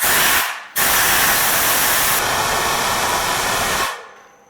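Compressed air blasts into a turbo's turbine housing with a loud, close hiss. A short burst is followed by a brief pause, then a sustained roar of about three seconds that fades out.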